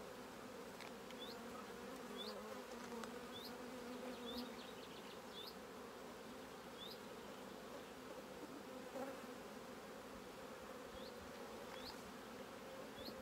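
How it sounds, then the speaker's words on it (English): Honeybees buzz steadily around open hive frames of bees and brood in an apiary in late spring, a dense continuous hum with small birds chirping in the background and no voices. "So I've left three frames here of bees and brood."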